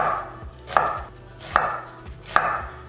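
A knife chops onions into pieces about an eighth of an inch wide, three loud sharp strokes spaced roughly every 0.8 seconds, close by, with softer cutting scrapes between them and no talking.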